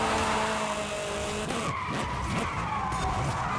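A Toyota Corolla Hatchback drifts in Forza Horizon 5, its tires skidding and squealing in a loud continuous screech over engine roar that shifts midway as the slide changes.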